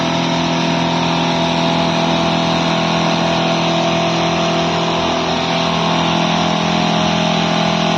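A 450 PSI high-pressure motor pump runs loud and close with a steady, dense mechanical drone, its pitch rising slightly as the speed is increased.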